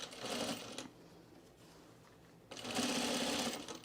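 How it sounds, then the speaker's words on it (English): A sewing machine stitches a box on cargo shorts in two short, loud, close bursts of steady whirring, separated by a quieter pause of low handling noise. "you need to kind of smooth out this as you're sewing it and keep your box nice and straight"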